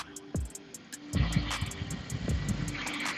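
A 2003 BMW 730Li E66 with a petrol engine and automatic gearbox idling just after starting: a quiet, steady low rumble with faint, regular ticking over it, and no talking.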